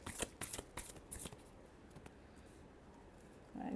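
Tarot cards are shuffled by hand in a quick run of crisp riffling bursts, close and clear, followed by a quieter pause and one more short shuffle at the end.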